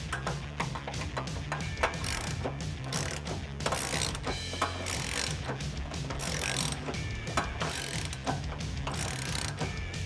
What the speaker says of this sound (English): I have a 21mm on my 1/2-inch drive. I'm just gonna tighten these down.